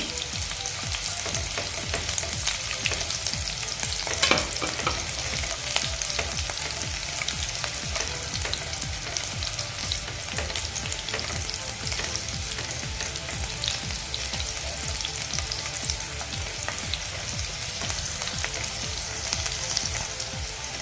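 Chilies and crushed garlic fry in a pan, giving a steady, dense sizzle with crackling throughout and a brief louder burst of spatter early on, close and continuous with no talking.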